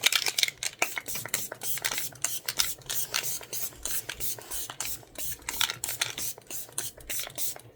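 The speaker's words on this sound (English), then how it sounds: "thank you again so much for the setting spray" Setting spray misted onto a face during a powder-foundation makeup routine, heard as a run of short, close hissing sprays and rubbing bursts with brief gaps, no talking.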